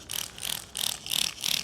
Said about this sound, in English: give it a good shake, and you simply spray it